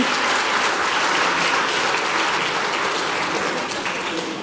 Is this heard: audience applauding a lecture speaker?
yes